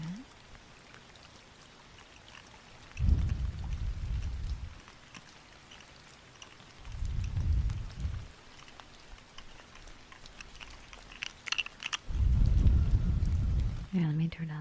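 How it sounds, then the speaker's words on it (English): Steady background rain recording in a soft-spoken ASMR livestream, a continuous hiss of falling rain running throughout beneath several bursts of close, low-pitched talking. "let me turn down the rain sounds a little bit"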